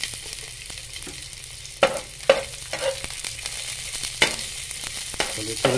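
Onion and garlic stir-fried in a pan while tuna is cooked for ginataang, a steady close sizzle broken by repeated clanks and scrapes of a spatula being stirred through the pan, with no talk.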